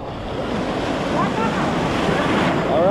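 Ocean surf rolls and breaks continuously at a sandbar beach in Wildwood, a broad steady wash of waves with wind noise on the microphone and a faint voice at times.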